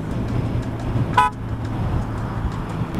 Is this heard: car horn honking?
yes